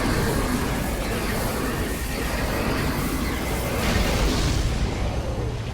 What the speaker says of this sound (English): Final boss down. And it's freaking out and exploding.